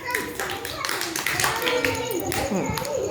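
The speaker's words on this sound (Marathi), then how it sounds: "चला संस्कारासाठी टाळ्या वाजवा" Children clap their hands together in a classroom, a run of loud, quick, uneven claps close by, mixed with voices talking.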